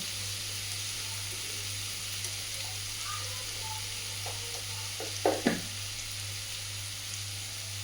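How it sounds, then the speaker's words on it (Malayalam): Mango pieces sautéing in a hot pan for Palakkad-style mango curry, a low steady sizzle broken by a couple of brief scraping stir strokes near the end. "മാങ്ങ ഒന്ന് വാട്ടിയെടുക്കുന്ന സമയം"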